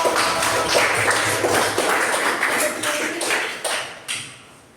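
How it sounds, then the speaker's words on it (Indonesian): Students in a classroom clap for a group that has just presented, a brisk scattered round of many hands that stays lively before thinning out and stopping near the end. "Tepuk tangan untuk kelompok"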